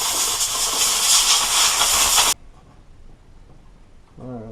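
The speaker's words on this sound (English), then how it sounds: "I always expect to go through about 5 or 6 cans of brake cleaner on a transmission job" An aerosol can of brake cleaner sprays onto a spring from a 4L80E transmission, a loud, close, continuous hiss lasting about two seconds that cuts off abruptly, followed by a brief voice.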